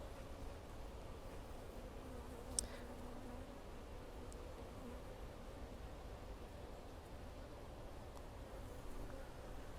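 Honeybees crawl over a hive frame, giving a soft, steady buzzing hum with faint rustling throughout and one brief sharp click near the middle.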